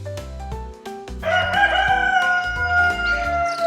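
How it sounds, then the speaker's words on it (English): Rooster crowing in a children's farm animal names segment, one long drawn-out cock-a-doodle-doo rising over light music, loud and close with no talking. "Rooster."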